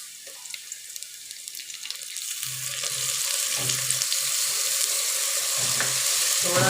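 Onion and garlic fry in a pan with a bright, continuous sizzle that grows slightly louder. Faint low knocks of stirring come through at intervals, and no one talks.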